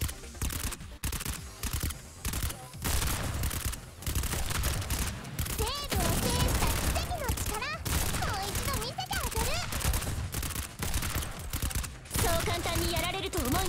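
Gunfire in the Girls Frontline mobile game: dense, continuous bursts of automatic weapon fire mixed with game effects and music, loud throughout, with a voice speaking over it.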